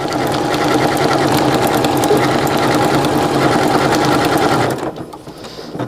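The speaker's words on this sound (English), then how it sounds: "I'm going to start right on the line. And we're just going to press the bullseye as soon as I start to sew." A sewing machine runs steadily at close range, stitching a Christmas appliqué with decorative stitches in a continuous loud whir, then stops abruptly near the end, leaving a quiet room.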